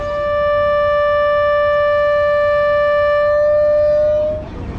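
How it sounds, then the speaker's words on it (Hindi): A loud, sustained departure horn from the Hazara Express blares steadily for about four seconds at Sargodha Junction station, a rich harmonic tone that cuts off abruptly, leaving station rumble behind. "इनिशियल डिपार्चर हॉर्न हो गया"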